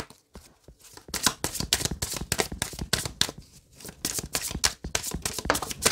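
A tarot deck shuffled nearby before three cards are drawn: a few soft handling taps, then a rapid series of papery riffles and slaps, with no voices.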